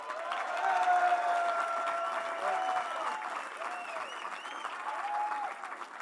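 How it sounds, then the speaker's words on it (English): A crowd applauds with sustained, dense clapping, mixed with scattered cheers and whistles throughout. "Let's bring to the stage with big, big applause, Monster Michael Todd."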